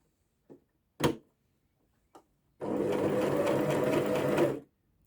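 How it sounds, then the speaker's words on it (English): Sewing machine bar tacking the end of a buttonhole on a dressmaking project, a couple of short needle stabs followed by a steady two-second run of rapid stitching, close and clear with no talk. "And then I'm going to bar tack the end."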